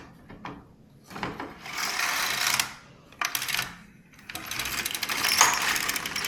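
An LK150 knitting machine carriage slides back and forth in repeated rasping, clattering passes of a second or two each, separated by short pauses.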